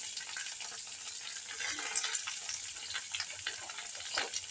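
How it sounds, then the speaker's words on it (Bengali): Okra frying in a pan for a Bengali-style sabji, a steady soft sizzle with occasional scraping stirs of a spatula, close and fairly quiet, no talking. "ঢেঁড়স ছাড়ার পর আবার একটু নাড়িয়ে নিয়ে এই আরো ঢেঁড়স দিলাম।"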